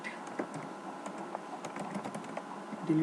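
Code is typed on a computer keyboard in quick, irregular clusters of soft clicks and taps, close but quiet, continuing for the whole stretch with no voice over it.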